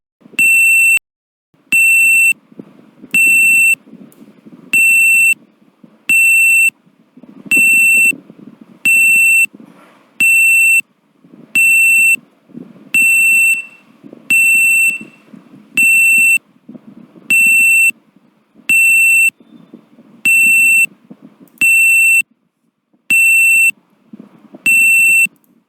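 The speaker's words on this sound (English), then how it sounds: "If there is any alert, then it will make the continuous beep sound." Alert beeps from activity recognition software repeat at a regular rhythm, about a dozen and a half sharp electronic tones, with faint background murmur between them.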